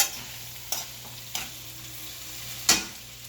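Eggplant frying in a pan gives a steady soft sizzle, broken by three or four sharp scraping stirs spaced a second or so apart, close and clear with no voices.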